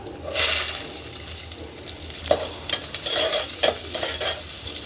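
Oil sizzles and spits as onions and curry leaves hit a hot pan over a wood fire, a burst of frying hiss followed by crackling pops and stirring.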